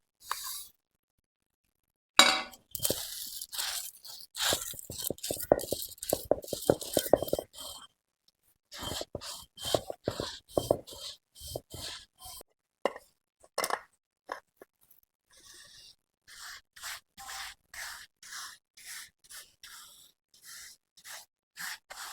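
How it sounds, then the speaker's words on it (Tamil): Roasted dried chillies, black pepper and coriander seeds are ground on a flat stone ammi for a village-style goat head curry, heard as rhythmic rasping scrapes of the grinding stone in repeated bursts with brief pauses. "இப்போ வறுத்து வச்ச மிளகாயை அரைச்சிக்கலாம் அம்மியில்."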